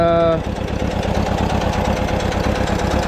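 An old Bobcat skid steer's diesel engine idles steadily nearby with a rhythmic knocking chug, loud and continuous after a brief tonal sound at the start.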